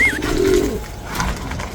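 Pigeons coo close by, a soft low throaty call sounding briefly with a faint higher chirp at its start.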